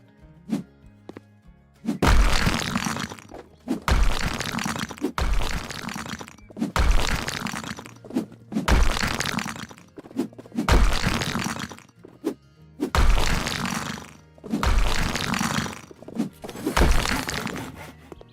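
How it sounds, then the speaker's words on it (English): A wall being smashed apart in House Flipper: about nine heavy, evenly spaced crunching blows with crumbling debris, each loud and close, separated by short pauses, with no voices. "Let's do some wall destroying."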